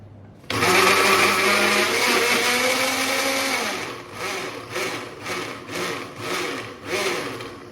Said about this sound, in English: so I'll just keep blending that for a sec